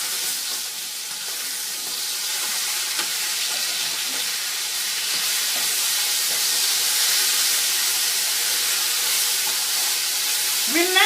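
Fatty lamb fries in a little olive oil, giving a steady, close sizzle and hiss that runs unbroken throughout and grows slightly louder midway.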